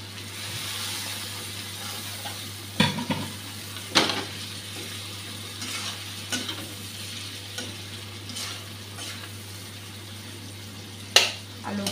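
Potatoes stirred into spices already frying in a pan for a koi fish and potato curry, a steady oily sizzle broken by several sharp scrapes of the spoon at irregular intervals.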